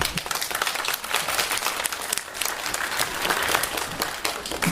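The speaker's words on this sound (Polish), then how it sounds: "ogromne brawa" Applause from an audience at a preschool children's recitation contest awards ceremony, steady dense clapping throughout, moderately loud and without talk.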